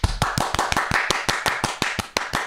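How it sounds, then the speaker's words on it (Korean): People clapping to welcome a guest onto a Korean talk show, a brisk series of sharp claps in a fairly even rhythm, close and clear with no talking over it. "박수로 한번 시작해 볼까요?"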